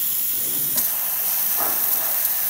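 Isomac espresso machine steam wand with a leak, a loud continuous broadband hiss of escaping steam, steady throughout with no voices.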